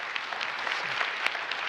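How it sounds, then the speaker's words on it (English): Applause from an audience at a forum on vocational excellence, a brief, steady patter of many hands clapping together, moderately loud and close, with no talking over it. "You get a big round of applause."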